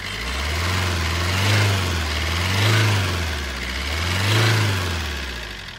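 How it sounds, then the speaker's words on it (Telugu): The diesel engine of a 2014 Maruti Suzuki Ertiga ZDI runs close by with a low, throbbing idle that swells and eases in slow, regular pulses. "సింగిల్ సెల్ఫ్లో అయితే వెహికల్ స్టార్ట్ అవుతుంది"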